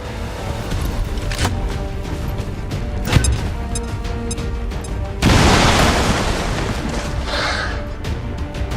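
A grenade blast in the video game X-COM 2 erupts as a loud broadband burst midway, preceded by sharp impacts and gunfire-like cracks, then a rumbling decay with clutter continuing after.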